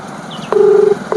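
A telephone call is placed again, giving a steady ringback tone that sounds close and clear after a short click, then starts a second ring pulse.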